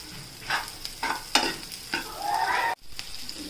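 Sliced bitter gourd sizzles in hot oil in a pan while a spoon stirs it in several short scraping strokes, close and steady.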